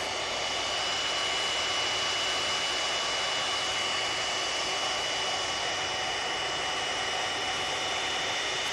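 Aer Lingus airliner arriving from New York at Manchester Airport, a loud, steady roar of jet engines holding constant throughout, with no talk.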